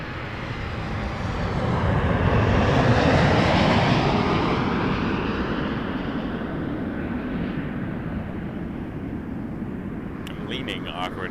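A WestJet Boeing 737 Max comes in to land at Toronto Pearson, a broad jet roar swelling to a peak and slowly fading as it passes at a distance.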